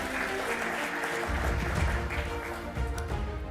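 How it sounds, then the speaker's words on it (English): An audience at a master's graduation ceremony for AUK's second cohort claps in a dense, sustained round of applause that stays steady throughout, heard from within the hall. "Let's give one more round of applause to both Dr. Hanna Shvindina and Oleksandra A"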